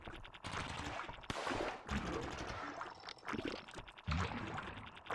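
Submachine gun fire in a video game, rapid bursts of shots in close succession mixed with clattering action noise, fairly faint overall.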